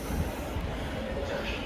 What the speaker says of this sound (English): it's coming into the bay platform, because that's how Blackfriars works